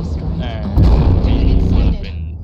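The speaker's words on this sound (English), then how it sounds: "artillery strike" A loud, close artillery strike booms in a naval raid video game, a heavy blast with a rumbling tail that rolls on for over a second before fading.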